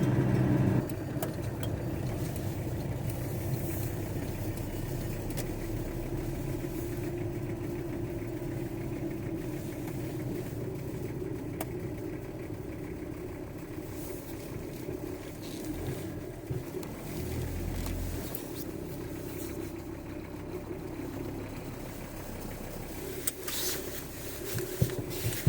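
A car sits idling nearby at an outdoor car boot sale, a steady low engine rumble running continuously with faint outdoor background noise.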